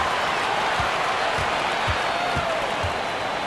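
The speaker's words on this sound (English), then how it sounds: "You can see the coaching staff rise up and clap for that effort" Crowd applause in the NBA 2K23 basketball video game, with scattered clapping and murmur, punctuated by a few dull rhythmic thuds like a ball bouncing on a court.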